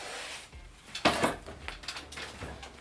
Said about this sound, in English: something on a bolt snap, and I'm clipping it off onto that D-ring